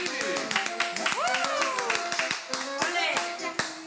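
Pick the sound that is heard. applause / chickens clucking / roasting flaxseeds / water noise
applause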